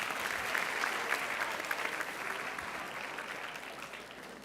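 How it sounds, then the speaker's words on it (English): Audience at a school Board of Education meeting gives steady, moderately loud applause that holds evenly throughout and eases only slightly at the close. "So everyone give them a big round of applause."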